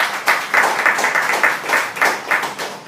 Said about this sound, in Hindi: आइए ताली बजाए तो उसको महिमा दें।